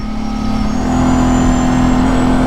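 A Kawasaki Brute Force 750 ATV engine revs with a steady, loud motor drone that builds slightly, close by, with no talking.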